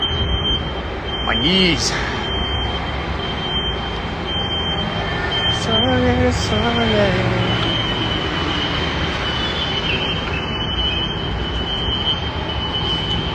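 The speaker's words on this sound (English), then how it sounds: "What are these sounds? Just like New York City sounds." New York City street ambience with a rumbling train passing, continuous mid-level roar with a few high squeals and beeps, while a person speaks briefly over it.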